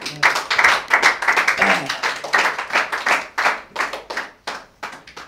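A church congregation claps in acclamation of the Lord, a dense run of rapid overlapping handclaps that keeps going for several seconds, loud and close, with a few faint voices mixed in.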